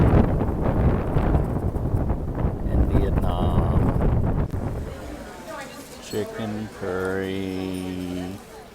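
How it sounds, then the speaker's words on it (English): Blustery wind rumbles and buffets the microphone through the first half, easing off as a voice speaks near the end. "It is windy."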